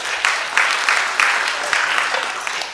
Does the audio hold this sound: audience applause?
yes